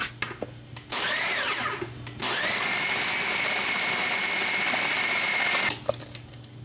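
A food processor grinds semi-frozen pork, starting with a short whirring burst, a brief pause, then a long steady high-pitched motor whine before cutting off abruptly.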